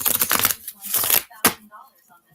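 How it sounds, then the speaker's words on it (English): Oracle cards riffled and shuffled in quick bursts of papery slapping and flicking, close and fairly loud, with a short pause between bursts. "One more shuffle."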